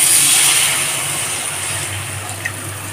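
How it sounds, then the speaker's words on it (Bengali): Hot water pours into fried spice paste for a Bengali mauri fish jhal chachori, a loud, steady rushing hiss of liquid that fades slightly as it goes on. "গরম জল অ্যাড করব।"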